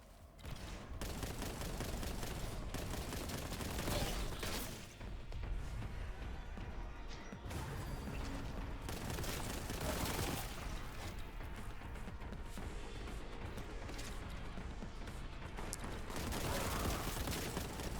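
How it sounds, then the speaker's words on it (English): Continuous heavy gunfire from a heavy bolter and rocket launcher in the Warhammer 40K: Boltgun video game, with dense overlapping bursts, blasts and crashes running loud throughout with barely a pause. "You hit him with that heavy bolter. You get that guy with that rocket launcher."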